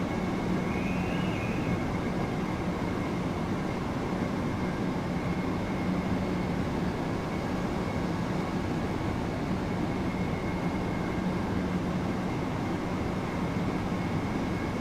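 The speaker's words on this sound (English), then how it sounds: "You'll hear the amazing sounds of that train flying past" A train in Train Sim World 2 passes, heard as a steady, moderately quiet rumble with rushing noise and a faint high whine, continuous and even throughout, with no voices.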